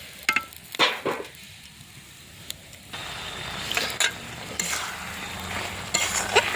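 Fish curry with mustard and onion paste frying and being stirred in a pan gives a soft, steady sizzle, with sharp clinks and scrapes of a spoon against the pot scattered throughout.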